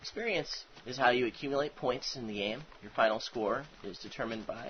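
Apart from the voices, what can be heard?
No everyday noise stands out behind the speech.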